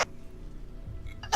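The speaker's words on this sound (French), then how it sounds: "tu coupes ta respiration si tu veux éviter le hoquet comme ça." A single hiccup in a quiet indoor setting, faint broadband bursts at the start and end with a low murmur between.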